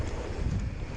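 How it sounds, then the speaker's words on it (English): Strong wind buffets the microphone on a mountain bike trail at Lake Brophy, Alexandria, Minnesota, with a steady, loud low roar throughout, no other sounds standing out. "It is like so freaking windy right now."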